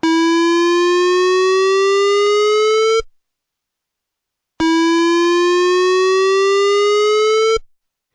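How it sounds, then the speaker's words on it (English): Two long rising civil defense siren tones signalling the all clear, each about three seconds, separated by a short silence; loud, harmonic-rich and alone. "The sirens will make a 30-second whooping sound to signal the all clear."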